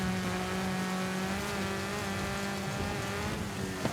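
Car engine in Forza Horizon 5 racing on sand trails, a steady loud droning engine note with shifting harmonics that drops in pitch as it downshifts, continuous throughout.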